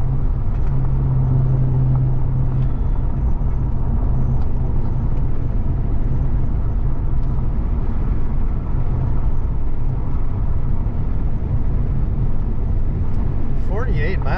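A vehicle in two-wheel drive rolls along a dry dirt road near Gerlach, Nevada, a steady close rumble of engine and tyres over loose ground that runs throughout, with a voice talking over it.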